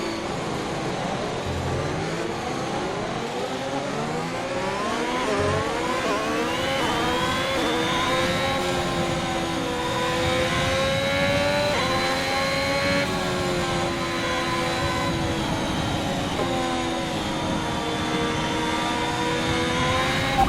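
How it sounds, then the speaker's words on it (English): A Formula 1 car engine in the F1 2021 racing game at Monza climbs through the gears, its high-pitched whine rising and dropping at each shift. The revs are loud and continuous throughout. "go through all the gears if you can"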